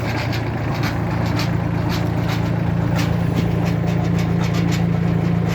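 A Solis 26 tractor fitted with a 1.5 m rotary tiller runs steadily at close range, a continuous low engine drone with mechanical rattle and no pauses.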